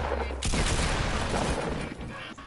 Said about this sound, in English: I mean, that's a shotgun.